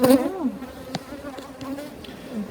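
Saskatraz honeybees buzz close by around a hive while it is being moved, giving a steady insect drone that rises and falls. A few sharp knocks sound over the buzzing.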